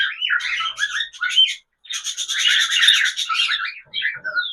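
Bright, chattering bird calls and squawky whistles from cockatiels, including lutino and grey birds, loud and close, repeating in busy bursts with a short pause partway through.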